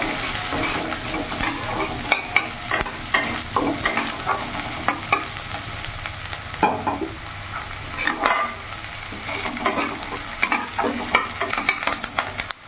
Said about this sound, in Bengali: এরই মধ্যে এখানে একটা পেঁয়াজ কুচি নিয়েছি, পেঁয়াজ কুচিটা দিয়ে দেবো।